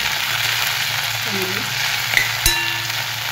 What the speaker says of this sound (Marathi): अशी आंबाडीची खरपूस भाजी भाजून घ्यायची